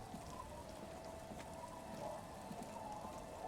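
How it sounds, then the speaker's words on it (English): Steady, soft rain falls in the video game Disco Elysium, a continuous even patter of raindrops on surfaces at low volume with no voices. "It's getting late, and it's raining."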